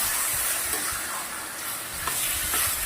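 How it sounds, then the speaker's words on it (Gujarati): Nepali vegetable curry being stirred in a pan on the stove after fresh coriander goes in, with a steady close hiss and soft scraping that run continuously without any talking. "સરસ મિક્સ કરી દઈશું"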